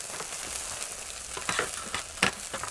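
Steaks sizzling on a hot pan atop a firebox stove, a dense steady crackle and hiss close by, with a few sharper pops and clinks near the end, no talk.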